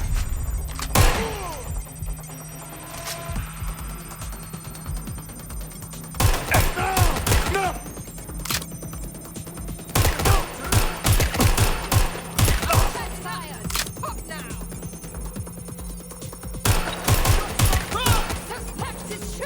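Gunfire in the video game Watch Dogs Legion, repeated bursts of sharp close shots in clusters across the scene, with thuds and game ambience between volleys.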